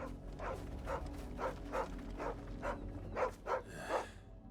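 A brown and white puppy nearby repeatedly barks and whimpers in a steady series of short yips, about one every half second, followed by a brief rustling burst at the end.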